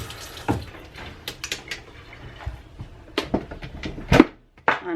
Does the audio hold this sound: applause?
no